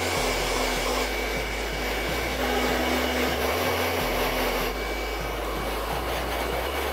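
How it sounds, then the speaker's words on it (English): A hair dryer blows steadily and loudly at close range during a rough blow-dry of straight hair, with a continuous whooshing drone and slight shifts as it moves. "the next step we're going to do is we're going to do really rough blow dry"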